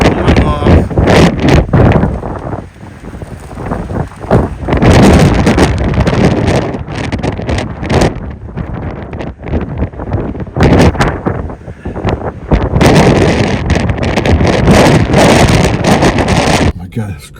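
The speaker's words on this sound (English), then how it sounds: "Here's how windy it is." Strong wind batters the microphone in loud, continuous rumbling gusts at an extremely windy spot, with a voice speaking partly buried under the roar.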